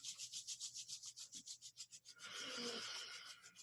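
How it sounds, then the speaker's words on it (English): Palms rubbing briskly together in a quick steady back-and-forth rhythm, about a dozen strokes, then a longer continuous rub, close and fairly quiet with no talking. "So rub your hands."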